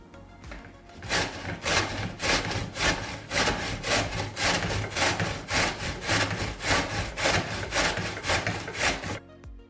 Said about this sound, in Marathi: आता कैऱ्या किसणीवर किसून घ्यायच्या